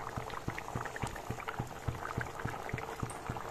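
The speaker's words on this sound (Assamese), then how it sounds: "এইখিনিও মই এতিয়া 10 মিনিট সময় এনেদৰে উতলিব দিম" A pot of paneer curry simmers on the stove, giving a steady, close bubbling with regular soft pops and a continuous liquid hiss, no voices.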